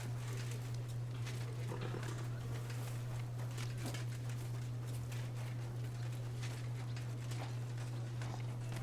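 Horse hooves clip-clop in the medieval role-playing game Kingdom Come: Deliverance II, a steady patter of light footfalls over a constant low hum and faint ambient birdsong, with no talk.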